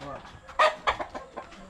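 A chicken clucking nearby in a few short sharp bursts, with faint talk in the background.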